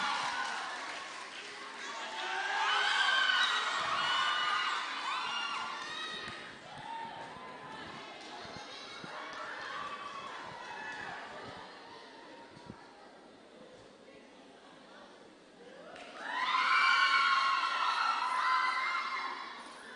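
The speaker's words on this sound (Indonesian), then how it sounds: "Kita berikan tepuk tangan paling meriah untuk peserta" An audience at a mixed adult church choir competition in Ambon swells into applause and cheering, loud at the start, easing into a steady murmur, then rising again in a second burst of clapping and shouts, with an announcer speaking over it.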